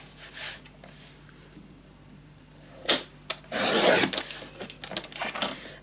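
Paper being scored with a tool along a guide for a Halloween pop-up album, producing short close rubbing strokes and a longer scraping pass, with light taps between them in a quiet room.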